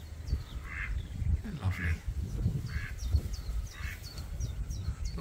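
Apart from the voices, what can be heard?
ducks quacking on a river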